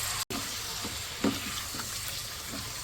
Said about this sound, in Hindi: इसको हम थोड़ा सा फ्राई करते हैं पहले ऑयल में